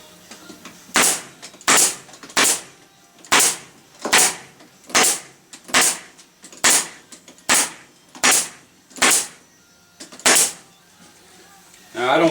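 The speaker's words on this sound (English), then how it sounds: "And now we staple them." A stapler driving staples into foundation in beehive frames held in a frame jig, about a dozen sharp, loud snaps at a fairly regular rhythm with quiet gaps between them.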